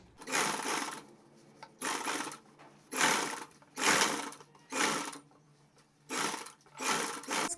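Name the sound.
sewing machine stitching a blouse seam over the margin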